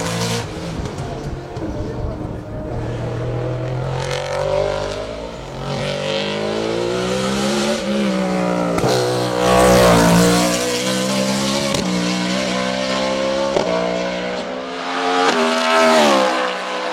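A BMW M3 E92 race car at a hill climb at Dunières, its engine loud and up close, climbing and dropping in pitch through repeated gear changes under hard acceleration.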